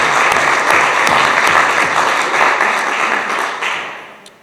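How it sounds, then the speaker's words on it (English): An audience at a chamber of commerce leadership breakfast gives a round of applause: dense, loud clapping from many hands that holds steady and then tapers off toward the end. "let's give him a round of applause for his effort"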